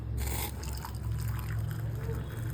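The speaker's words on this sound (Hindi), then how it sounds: "पानी बॉईल हो चुका है। ठीक है, अब इस पानी को इसमें ट्रांसफ़र कर देंगे।" Boiled water poured from one container into another, a steady splashing trickle under low background rumble, continuous for a few seconds.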